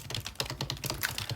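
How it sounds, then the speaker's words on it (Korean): Fast, close clacking keystrokes on a faulty computer keyboard, a dense rhythmic burst of taps with no voices. "타자 소리가 좀 날 수도 있어요."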